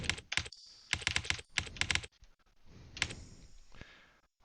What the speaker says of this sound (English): Apologise for my typing accuracy, or rather inaccuracy